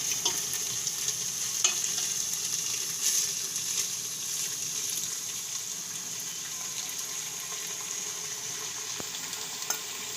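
Rice stirred into whole moong khichdi in a pot, a soft steady wet scraping and sizzling hiss with faint occasional clinks, close and fairly quiet with no talking.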